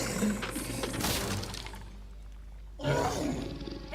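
A cartoon tiger lets out two loud, harsh roars, the first long and rough and the second bursting in after a brief quieter gap.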